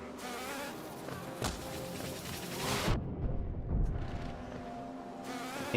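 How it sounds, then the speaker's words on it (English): Buzzing of a cannon bee enemy in the video game Hollow Knight, a steady insect-like drone with game effects and a brief dropout partway through, fairly loud throughout. "I would like to defeat that cannon bee if I can."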